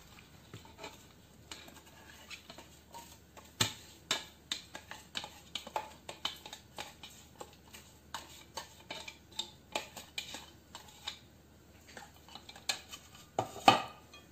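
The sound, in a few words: stirring otak-otak mixture with garlic and shallots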